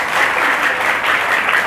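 A church congregation at a Sunday worship service applauds for God, a steady, dense wash of clapping from many hands filling the room without pause.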